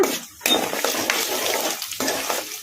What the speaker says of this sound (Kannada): ಇವನ್ನೆಲ್ಲ ಮೀಡಿಯಂ ಫ್ಲೇಮಲ್ಲೇ ಫ್ರೈ ಮಾಡ್ಕೋಬೇಕು ಶೇಂಗಾ ಬೀಜ ಕಡಲೆಬೇಳೆ ಉದ್ದಿನಬೇಳೆ